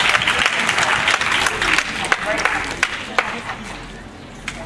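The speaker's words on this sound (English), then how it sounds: "Khadijatu Sawale, can we give her a round of applause?" An audience bursts into applause for a child performer at a kids' stage event: lively crowd clapping with scattered sharp claps and cheers, gradually thinning out toward the end.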